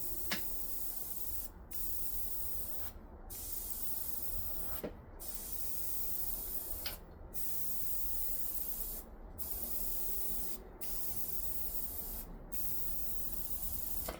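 An airbrush sprays paint at too-high pressure for a gremlin model, a steady close hiss broken by about eight short pauses where the trigger is released, with faint clicks at some restarts.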